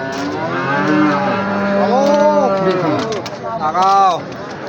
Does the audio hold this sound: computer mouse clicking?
no